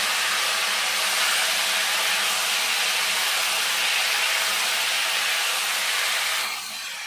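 Cut, washed potatoes drop into a hot pan for a koi fish curry with mete aloo, giving a loud, steady steam-like sizzle and hiss that holds for about six seconds, then eases slightly.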